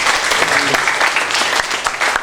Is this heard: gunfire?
no